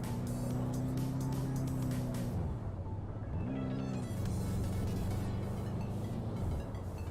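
The C46 race car in the Redline Racing video game revs its engine steadily without quite reaching redline, drops off briefly, then climbs again in a smooth, continuous, synthetic drone with no talking.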